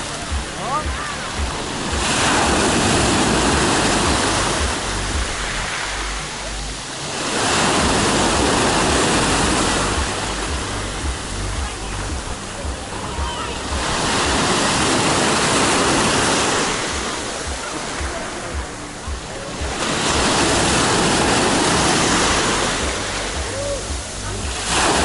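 Sea waves breaking on the shore near Sochi, each one swelling into a broad roar and fading back in a slow rhythm, about five surges, with wind rumbling over the microphone.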